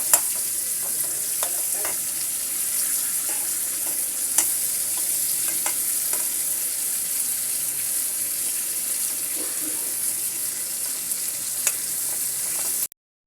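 Spiny gourd (kakrol) pieces fry in a little oil with a steady, continuous sizzle, and occasional scrapes and clicks of a spatula stirring them sound close and clear throughout, with no talk.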